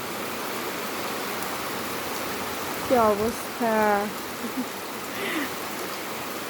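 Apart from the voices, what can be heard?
heavy rain falling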